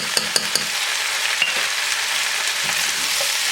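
Six medium tomatoes with half a teaspoon of salt cook in a pan over high flame, giving a steady, close sizzling hiss with a few clinks of stirring near the start.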